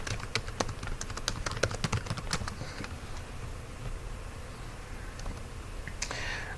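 A file name being typed on a computer keyboard, a quick run of close key clicks for the first few seconds that thins out into sparse taps against low room hum.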